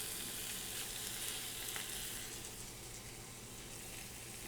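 Lamb searing in a cast iron pan, a dense, steady hiss of frying fat that holds evenly throughout, close and moderately loud, with no voices.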